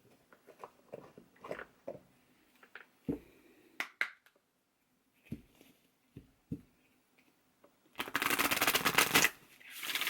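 A deck of tarot cards being shuffled close up, with a run of crisp riffles and taps at the start, scattered handling clicks, then a dense, loud burst of rapid shuffling near the end.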